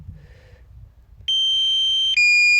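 A DJI Mini 2 drone's low battery warning sounds as two loud, sustained electronic tones, each steady for close to a second, cutting in sharply after a quiet outdoor stretch at Snake River Canyon.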